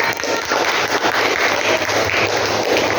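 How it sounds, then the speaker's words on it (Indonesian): A classroom group claps together during a teacher training session, a steady, fairly loud patter of many hands that continues evenly without pause. "Tepuk tangan."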